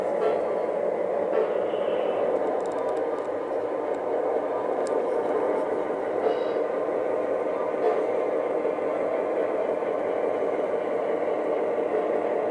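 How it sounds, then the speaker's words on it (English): A steady rumbling model train sound, a Lionel Great Northern LionChief Plus 2.0 NW-2 locomotive rolling in, with a constant broadband roar and faint squeals, holding at an even loudness throughout. "The train is coming in"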